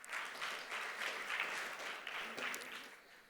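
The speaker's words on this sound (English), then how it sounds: "Can you please have a big round of applause for him?" A crowd applauding steadily for a few seconds, a dense wash of clapping that swells slightly and then tapers off.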